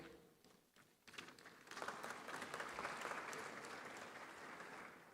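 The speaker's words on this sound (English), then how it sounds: "So put your hands together as I welcome on stage our panel of speakers" An audience at the 30th Afreximbank Annual Meetings applauds panel speakers walking on stage. Sparse, scattered claps swell within a second into full sustained applause that stays fairly even to the end, heard at a distance in a large hall.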